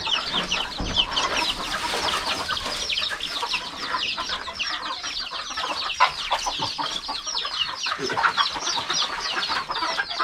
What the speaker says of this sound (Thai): เป็นไก่พื้นเมืองครับ